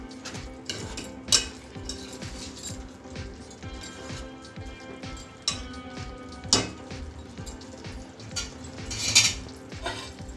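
A spoon stirs ridge gourd curry in a pot, scraping and clinking against the metal in an irregular rhythm, with a few sharper knocks standing out over a low steady cooking hiss.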